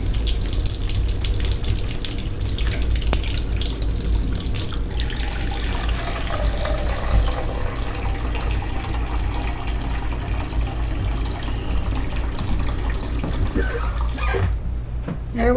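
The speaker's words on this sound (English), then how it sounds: "And then we'll get us some warm water." Warm tap water runs steadily into a measuring cup for several seconds, a continuous close gushing stream that stops abruptly near the end.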